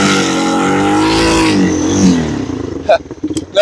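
A Yamaha 225 outboard engine with a sticking throttle revs hard and strains. Its droning pitch wavers and climbs, then breaks into uneven sputtering bursts near the end. The engine is close and loud.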